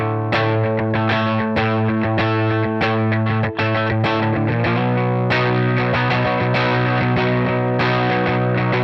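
Two distorted electric guitars play a song, a second guitar layered under the first, sustaining a steady A with repeated loud chord hits throughout, no talking.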